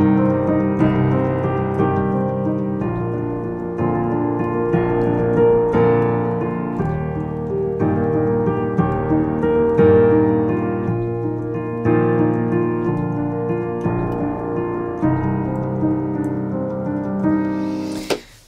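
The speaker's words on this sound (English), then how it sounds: "an epic sounding, sort of Hollywood style piano pattern for you" An epic, Hollywood-style piano pattern plays continuously, with repeating low bass notes under flowing arpeggiated chords, close and sustained throughout, ending with a brief noise.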